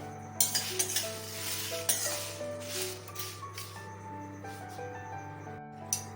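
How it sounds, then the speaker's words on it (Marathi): Ingredients dry-roasting in a pan on a gas stove, a soft sizzle under repeated spoon stirring and clinks against the pan, with a steady low hum throughout. "आता हे आपल्याला 1-2 मिनिटच भाजून घ्यायचंय, जास्त नाही भाजायचंय."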